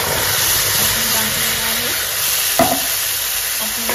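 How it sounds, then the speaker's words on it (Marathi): Spices with cumin fry in hot oil as a tadka, giving a loud, even sizzling hiss throughout, with one brief scraping stir of the spoon partway through. "चांगलं हलवून घ्यायचं."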